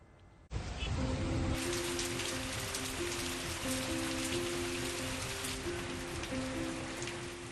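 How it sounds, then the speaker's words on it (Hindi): Steady rain pours down in Mumbai, a dense, even hiss that starts abruptly and continues loud and unbroken, with a faint low musical tone running underneath. "इससे पहले मुंबई में लगातार बारिश हो रही है।"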